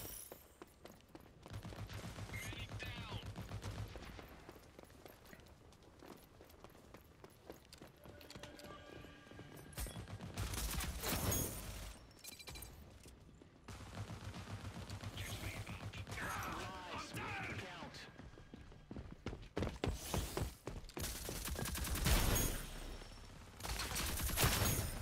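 Submachine gun fire in the tactical shooter Rogue Company, repeated loud rattling bursts separated by quieter stretches, heard alongside other game sounds.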